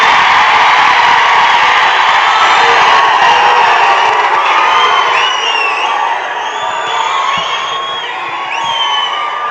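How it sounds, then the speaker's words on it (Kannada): Loud cheering and whooping crowd with some clapping greets a speaker, former MP Ramesh Katti, coming to the stage at a memorial event in Karnataka; dense and sustained throughout, with scattered shouts standing out. "ನಿಮ್ಮೆಲ್ಲರ ಜೋರಾದ ಚಪ್ಪಾಳೆಗಳೊಂದಿಗೆ"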